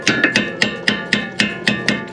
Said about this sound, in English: I'll just hit it with a hammer to knock it through.